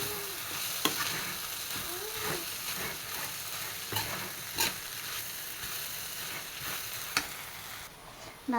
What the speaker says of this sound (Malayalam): ഇടയ്ക്കിടയ്ക്കൊന്ന് ഇത്തിരി ഇളക്കി വിടണം, അപ്പോൾ എല്ലാം കൂടി ഇങ്ങനെ വെന്തോളും